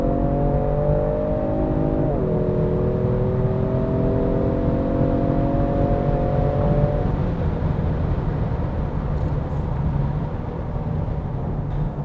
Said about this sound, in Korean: G70 스포츠 고속에서 급가속을 요청하면 기다렸다는 듯이 자신있게 응답해 줍니다